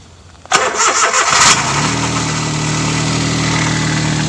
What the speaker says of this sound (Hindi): अब करेंगे गाड़ी स्टार्ट